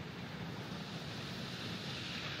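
Hunua Falls in New Zealand pours in a steady broadband roar, dense and unbroken, heard at a moderate distance without voices.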